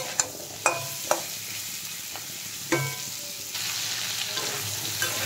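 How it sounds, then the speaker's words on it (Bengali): Potatoes frying in oil with salt and turmeric, a steady close sizzle punctuated by several sharp clinks of a spatula being stirred against the pan. "নুন হলুদ দিয়ে আলুগুলো বেশ ভালো করে ভেজে দেবো।"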